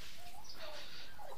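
A large Pelung rooster gives a brief, high, drawn-out tenor crow, close and clear, lasting only about a second and a half.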